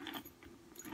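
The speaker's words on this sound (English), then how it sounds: "I have my keys." A set of keys jangles briefly, a few soft metallic clinks close by and fairly faint.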